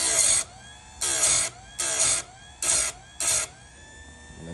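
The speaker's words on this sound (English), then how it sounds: "Okay, so it's like a little grinder, and let me just show you how it works." A small electric grinder sharpens a chainsaw chain tooth by tooth, five short bright whining bursts at a steady rhythm with quiet pauses between, close up.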